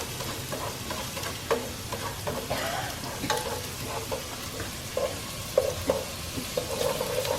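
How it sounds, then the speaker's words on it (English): Onion and minced garlic frying in a pan for a homemade marinara sauce, with a steady close sizzle, occasional stirring scrapes and light clicks throughout, and no talking. "So I've been cooking the onion and the garlic for about 2 minutes"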